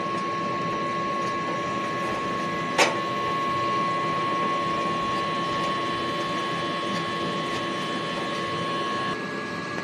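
A DTF printer works through a print head cleaning cycle, a steady mechanical whir with a fixed tonal hum and a brief sharp click early on, heard nearby without speech.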